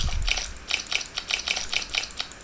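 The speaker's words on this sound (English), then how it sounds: "let's go and mix them well" Squishy, wet slime being mixed in the game Slime Simulator: a rhythmic run of soft, sticky squelches repeating roughly every fifth of a second, close and moderately loud, with no voices over it.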